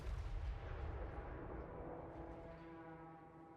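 Cannons firing during a Total War Warhammer video game land battle, booming artillery blasts with heavy low rumble at the start, then fading into a quieter rolling tail.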